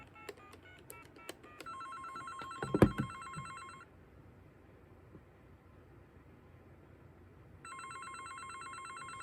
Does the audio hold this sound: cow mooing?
no